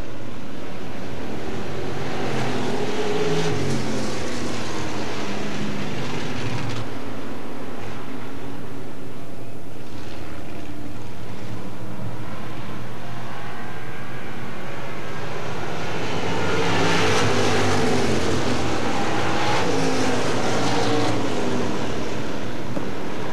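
Street stock race cars roar around Smoky Mountain Speedway in a continuous, loud engine drone that swells as the pack passes near, with no talk heard.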